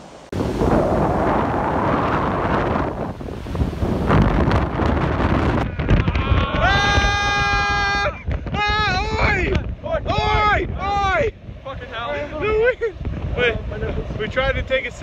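Strong wind buffets the microphone beside a waterfall in Iceland, a loud, rough roar at first, then continuing under several people talking and exclaiming close by.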